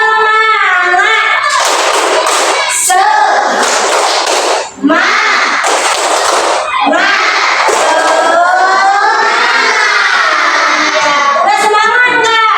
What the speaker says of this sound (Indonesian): yuk kita tepuk semangat dulu. Tepuk semangat.